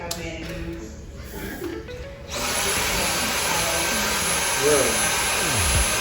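A cordless vacuum cleaner set to low power hums steadily and loudly for most of the stretch, picking up after a quieter opening with some talking in the room.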